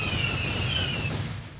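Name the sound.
explosion move sounds from a Roblox sword game, Peroxide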